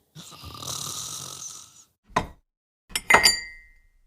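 A person imitates snoring: a long rasping inhale followed by a couple of short snorting bursts, fairly close and moderately loud.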